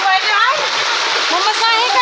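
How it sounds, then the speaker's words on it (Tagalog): Cold river water rushes and splashes in a continuous, loud, close wash, with voices talking over it. "malamig yung tubig dito"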